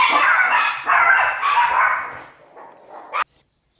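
Several dogs bark in an excited, overlapping volley nearby, with yips and whines among the barks, before the sound cuts off abruptly.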